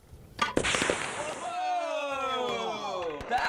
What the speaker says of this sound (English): we're gonna have a huge explosion